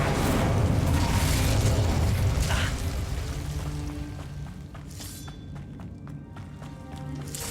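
Spell blasts from Confringo and Incendio in Hogwarts Legacy burst loudly at first, a dense fiery roar that fades into crackling debris and scattered sharp impacts, with faint ringing tones underneath.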